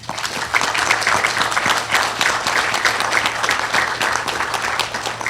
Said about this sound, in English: And just another round of applause.